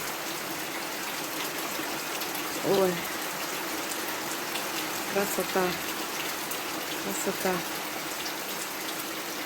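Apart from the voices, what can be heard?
rain falling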